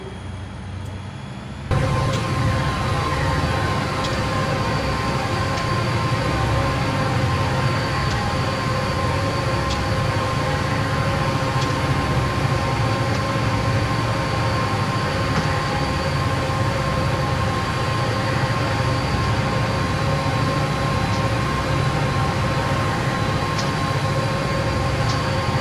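A Southern Pacific SD45 diesel locomotive from Train Simulator 2015 runs on Donner Pass, a steady loud engine drone with rumbling rail noise and a faint high whine, continuous throughout with no talk.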